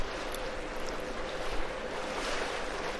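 A boat on the River Severn turns into a narrower channel, its low engine rumble steady under wind buffeting and water wash, fairly faint and with no talking.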